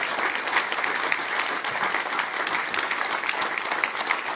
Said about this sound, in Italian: credo di farci un applauso